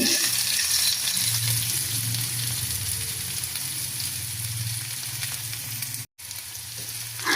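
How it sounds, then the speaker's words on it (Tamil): Mustard seeds, garlic and onion frying in oil in a pan for a potato curry sizzle steadily and loudly up close, with occasional crackles and stirring and a brief dropout near the end. "கொஞ்சம் எண்ணெய் விட்டு கடுகு சேர்த்துக்கிறலாம். அதோடு நாங்கள் வெள்ளைப்பூடு சேர்த்துக்கிடுவோம்."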